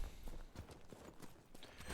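Hooves clip-clop in a brisk, steady rhythm, close and fairly loud, with no voices over them; a horse in the video game Dragon Age: Inquisition.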